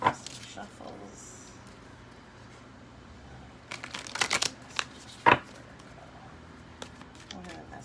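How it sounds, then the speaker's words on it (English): Tarot cards being shuffled by hand on a rainy day, a few short papery riffles and crisp card snaps in separate bursts against a quiet room background. "let's do some shuffles"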